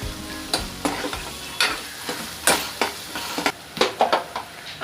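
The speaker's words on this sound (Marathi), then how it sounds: "आणि त्यामध्ये आता ही अर्धा चमचा आलं लसूणची पेस्ट टाकते. आपल्याला त्याला व्यवस्थित मिक्स करून घ्यायचं आहे." Ginger garlic paste is stirred into ghee and onions frying on low flame for a dhaba-style palak dal, with a gentle sizzle under repeated spoon scrapes and stirring knocks in an uneven rhythm.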